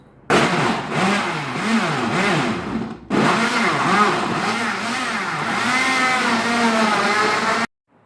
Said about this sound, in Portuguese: Enquanto bateu a minha massa aqui no liquidificador